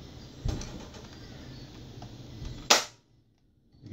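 A modded Nerf Hammershot blaster fires a dart, a soft thump followed a couple of seconds later by a sharp snap as the dart hits its target, close by and without voices, ending in silence.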